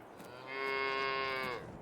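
A single drawn-out, tonal cow moo from Farming Simulator 22 rises, holds for about a second and fades, fairly clear over quiet background.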